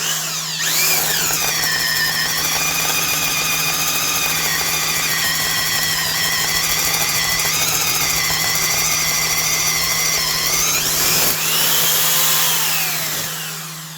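A drill boring with a Bosch DareDevil extended-length self-feed spade bit, a loud, close, continuous whining drone that holds steady for about ten seconds, then revs briefly before winding down.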